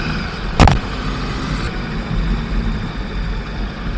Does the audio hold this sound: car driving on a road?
yes